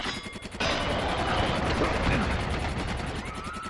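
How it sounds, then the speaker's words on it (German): Background music glitches in Tony Hawk's Pro Skater 2 in the New York City level: it breaks into a rapid, rhythmic stutter that loops a harsh, noisy burst over and over, loud and continuous after a brief quieter start. "Jetzt hat gerade die Musik irgendeinen Bug."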